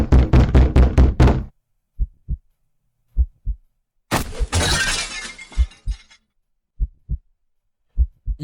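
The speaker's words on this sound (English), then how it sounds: "the sound of the door being ripped off its hinges, followed by a loud crash against the wall on the other side of the room" A door is torn off its hinges and crashes into a wall across a room: a run of loud, rapid pounding blows, then sparse thuds, then a long, loud splintering crash with debris and a few dull thumps after.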